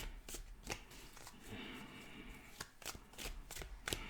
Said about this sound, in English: We've got some shuffled cards here. Some overhand shuffles.